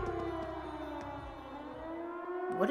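A civil-defense style siren in the video game Trails of Cold Steel, a long wavering wail with layered harmonics that slowly falls then rises again, sustained and fairly loud with no talking.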